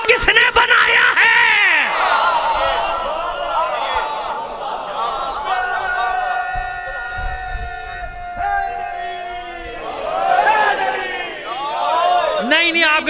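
An audience at a Shia religious lecture on wilayat chants religious slogans. Many loud voices call out together in sustained, wavering cries that ease in the middle and then swell again near the end.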